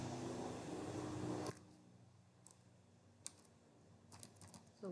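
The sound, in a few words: typing code on a computer keyboard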